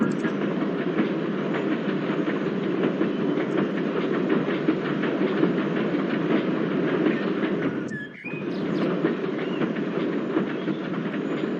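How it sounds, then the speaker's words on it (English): A steam engine rolls along rails, giving a steady, loud, continuous rumble with faint rhythmic clatter and a brief dip near the end. "And then Thomas puffed away."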